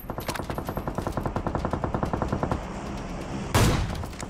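Gunfire in PUBG Mobile: a rapid run of close, evenly spaced shots cracks out, then after a short pause a single sharper, louder shot rings out.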